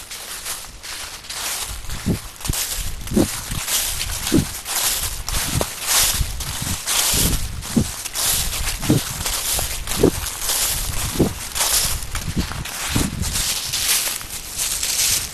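Steady crunching footsteps on rough ground, roughly one step every second, close and loud, with gusty wind noise throughout.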